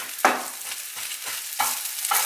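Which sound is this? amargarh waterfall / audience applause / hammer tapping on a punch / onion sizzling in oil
onion sizzling in oil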